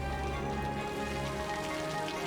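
Rain falls in the city-building game Cities Skylines as a dense, even hiss of drops, steady and moderately loud, blended with a layer of ambient music.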